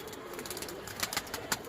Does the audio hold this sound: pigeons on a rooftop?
yes